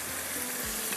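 Curry leaves, cumin, chopped tomatoes and green chillies fry in a pan for kari pata chawal, giving a steady, close, bright sizzle with a faint stir partway through, no voices.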